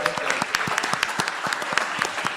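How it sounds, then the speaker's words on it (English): Audience at a house music festival panel claps for the panelists, a short burst of close, distinct handclaps at moderate volume from a smallish crowd. "let's give a big round of our applause for our panelists"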